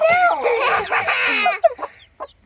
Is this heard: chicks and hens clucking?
yes